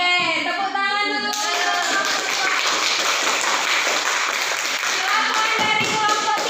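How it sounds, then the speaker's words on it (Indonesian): Students in an Indonesian classroom clap together for a group presentation on procedure texts: a dense, steady burst of hand claps lasting several seconds, preceded by a brief spoken voice. "Oke, tepuk tangan dulu."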